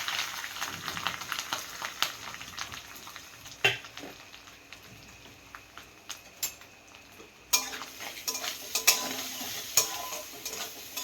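Grated coconut fries in hot oil with dried red chillies, a soft close sizzle broken by clattering spatula stirs against the pan, louder bursts after a fresh addition midway.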